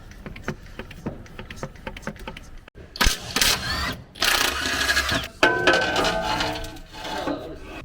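Hand pump on an 8-litre oil drainage container, first a run of light ticking clicks, then loud rough pumping strokes with mechanical rattling, close by.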